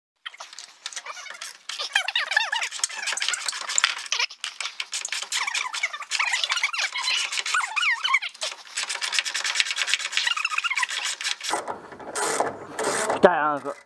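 A ratchet wrench turns the engine-mount bolts on a Renault 4 Savane during engine and gearbox removal, giving rapid, dense metallic clicking that runs almost continuously, close and fairly loud, and changes character near the end.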